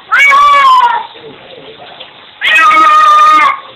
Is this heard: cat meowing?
yes